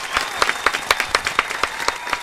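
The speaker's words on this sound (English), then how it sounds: "Give them a big round of applause." An audience applauds the Snowfall cast with lively, close clapping of a modest crowd, individual hand claps standing out in quick irregular bursts.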